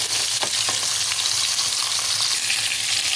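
Chicken pieces fry in hot oil with a dense, continuous sizzle and crackle, steady and close, with occasional louder pops and no voices.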